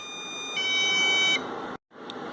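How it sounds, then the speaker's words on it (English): An electronic doorbell buzzer sounds one shrill, steady tone for under a second, followed after a short silence by a brief faint beep. "Now the doorbell will sound."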